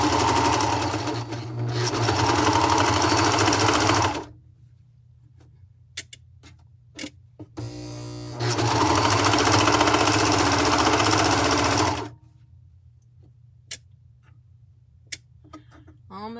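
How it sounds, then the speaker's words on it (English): A serger overlocker stitching onto fabric for a tank top gusset runs in two long, loud, steady bursts of rapid mechanical whirring, separated and followed by quieter stretches of scattered clicks and handling noises. "then you serge onto your fabric"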